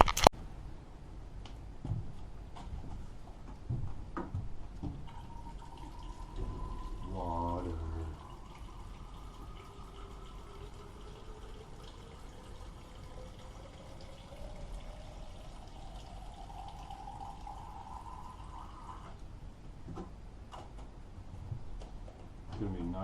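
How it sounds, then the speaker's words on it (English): Water runs into a water bottle, making a quiet, steady pour whose pitch climbs gradually for roughly fourteen seconds as the bottle fills, with faint scattered background noise around it. "let's go fill up this water bottle"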